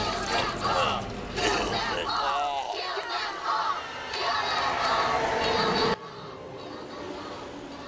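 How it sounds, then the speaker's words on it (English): A movie crowd in IT: Chapter One (2017) shouts and cheers loudly with overlapping voices, then cuts abruptly to a quieter scene near the end. "Give him a big round of applause."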